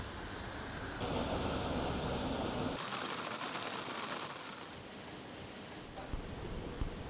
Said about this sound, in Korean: 전반적 지역에서 바람이 세게 불면서 폭우를 동반한 많은 비가 내리고 있습니다